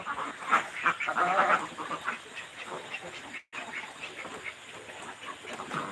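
Ducks quack in scattered bursts, louder near the start, over a steady background hiss.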